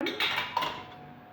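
Pressure cooker lid lifted open after preheating, giving a short metallic clink and scrape of the lid against the pot, close and fairly quiet, with no talking.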